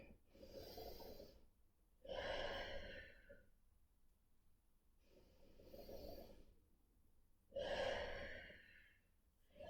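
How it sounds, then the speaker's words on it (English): Deep breathing in and out during a core exercise session: slow, close, airy inhales and exhales in a regular cycle of about four breaths, quiet, with no talking. "Focus on taking the deepest breath possible without losing this position."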